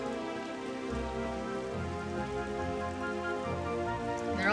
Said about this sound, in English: They're all just still standing here in the rain.